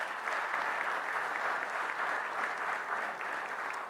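A crowd applauds at a press conference announcing a new partnership with Petersburg; the clapping is steady and even throughout, with no speech over it.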